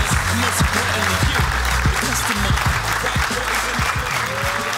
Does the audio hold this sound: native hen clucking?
no